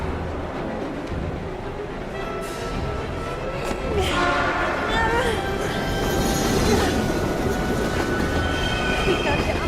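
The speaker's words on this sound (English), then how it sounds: "We've got to get on that train, Ethan." A train approaching on the tracks in the video game Heavy Rain, a loud, continuous rumble with screeching metallic squeals rising toward the end, steady and close throughout.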